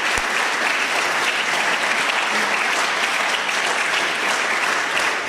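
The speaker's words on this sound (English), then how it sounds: "Good, keep on clapping because then I could get more hugs." Sustained applause from an audience at a lecture hall event, dense and steady clapping filling the room throughout with no gaps.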